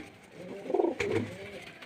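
Female pigeon at a home loft giving a soft, close coo in a short rolling phrase, with a faint tap midway and low background murmur.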